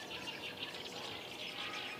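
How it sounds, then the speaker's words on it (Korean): Birdsong and wind at Hwapocheon wetland, soft continuous high chirping over a steady airy rush, faint and calm with no talking. "새소리와 바람소리만이 잔잔하게 울려 퍼지는 화포천 습지"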